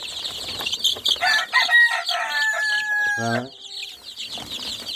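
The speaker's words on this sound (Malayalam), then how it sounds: "നാടൻ കോഴി കുഞ്ഞുങ്ങളാണ് വേണ്ട" Young native chickens chirp and peep in high, rapid bursts close by, mixed with a few longer, louder drawn-out calls.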